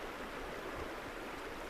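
Brief stretch of a river's steady flow, a uniform soft roar of running water holding level throughout, with no talking.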